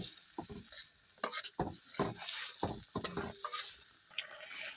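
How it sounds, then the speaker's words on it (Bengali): Spice masala with turmeric being fried and stirred in a pan: close, busy sizzling broken by repeated scraping strokes of a utensil against the pan, with no voices. "এবার ভালো করে না মশলাটা আমি কষিয়ে নেব"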